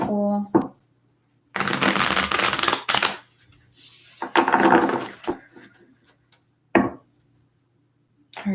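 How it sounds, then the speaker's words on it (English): Tarot cards are shuffled in several quick riffling bursts separated by pauses, crisp and close, with faint softer handling noises between bursts. "Okay, one more shuffle."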